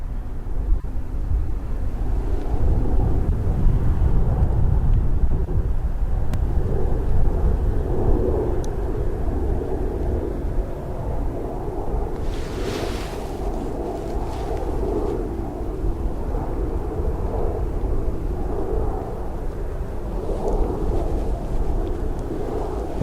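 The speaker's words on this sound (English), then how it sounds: "So there's our KC-135, which we seen do a couple of circuits so far." Boeing KC-135 tanker aircraft flying circuits over an airfield, a steady low jet rumble heard from a distance with wind noise, continuous throughout and no talking.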